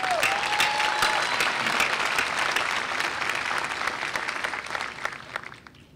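Graduation ceremony audience applauding the university board chair, loud, dense clapping from a large crowd that holds steady, then thins and fades out over the final seconds.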